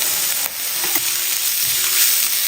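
Onions sautéing with salt in a pressure cooker pot while preparing samosa filling give a steady, close frying sizzle and hiss with a few faint stirring scrapes; no voices.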